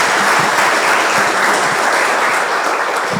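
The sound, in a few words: audience clapping after a session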